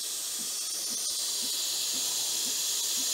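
An espresso machine steam wand hisses steadily and loudly the whole time, with faint soft thumps pulsing regularly beneath the hiss.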